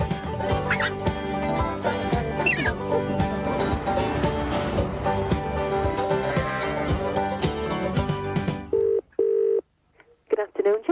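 A telephone is dialed in an office while calls are being made, with a few short keypad tones standing out near the end after a dense, busy stretch of sound.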